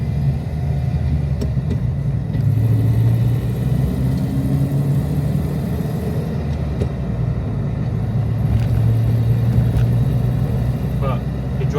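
Steady low engine rumble from a Mercedes 190E with a swapped engine while it is driven, a continuous close cabin drone with mild rises in revs and faint road noise.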